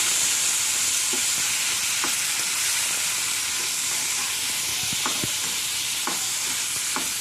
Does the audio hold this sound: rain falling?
no